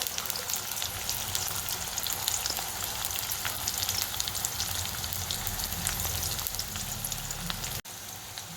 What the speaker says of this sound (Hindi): अब हम इसमें प्याज को तल लेते हैं। हमें इसे अलग करके इस तरह से तल लेना है।